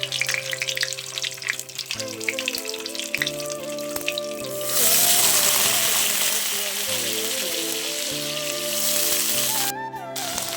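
Nigella seeds hit hot mustard oil in a kadai, erupting midway into a loud, steady sizzle and crackle that continues to the end, with a low hum beneath.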